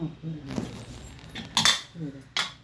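A pressure cooker holding a vegetable curry is opened, with metallic clinks and clatter of the lid and weight close by, and a voice speaking in between.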